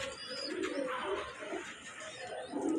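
Budapest pigeons cooing at a bird market, soft repeated low coos rising and falling close by, with brighter chirps and market noise around them.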